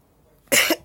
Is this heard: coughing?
yes